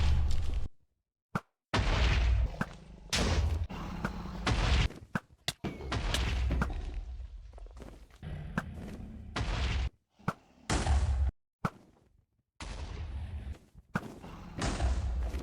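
End crystals in Minecraft are shot and blow up: a run of sharp booming blasts and thuds separated by short silences, loud and close, with no talking.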